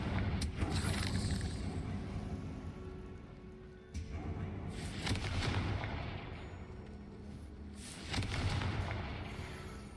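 A Confringo fire spell goes off in the Hogwarts Legacy game as deep, rumbling blasts that surge three times over a dense, continuous roar of crackling debris, loud and close.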